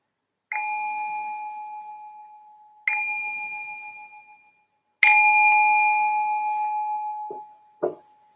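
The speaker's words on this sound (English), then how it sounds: "So I just ring this bell to signal the start of the meditation." A meditation bell is struck three times in a quiet room, each clear ring fading slowly, and the third rings longest before two faint knocks.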